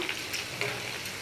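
Panch phoron whole spices sizzle and crackle in hot oil while being fried for mango pickle, a brief close, steady frying hiss with no talking.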